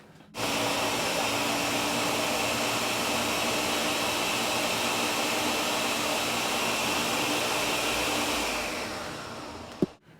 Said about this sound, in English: We'll let the food processor do the work on this one.